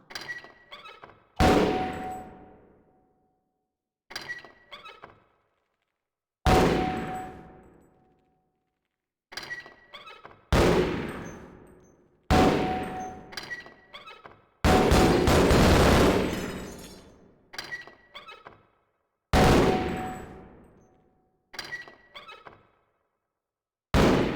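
Gunfire and grenade blasts on the Black Mesa target range in Half-Life: about ten separate loud bursts, each fading after a sharp start, spaced a few seconds apart, with one longer dense blast in the middle.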